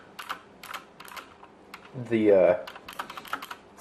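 Rapid clicking keystrokes on an IXCC X7000 mechanical RGB keyboard, close and fairly quiet, continuing through a short spoken phrase.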